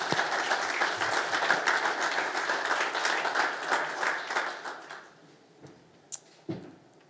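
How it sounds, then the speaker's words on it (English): Audience applause for a speaker at a live-streamed event, steady dense clapping from a crowd that holds for about five seconds, then fades out, leaving a few scattered claps and small noises. "a big round of applause for Philip Stamp"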